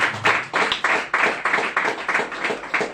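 A loud, close group clapping in a steady rhythmic beat, each clap evenly spaced at a brisk tempo, at a church gathering, with no talking over it.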